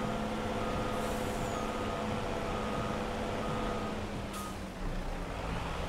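A truck in Farming Simulator 25 drives with a steady droning engine hum and faint rattling load, a short hiss of air brakes near the end, no talk.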